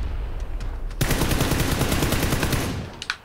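Automatic weapon fire in PUBG: a sudden loud burst of rapid gunshots rattling for about two seconds, with a few scattered shots before it and a couple of sharp cracks as it fades.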